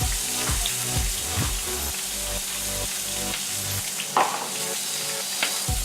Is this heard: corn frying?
yes